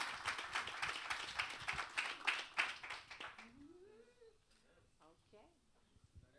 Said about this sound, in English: Big round of applause for MusiCares.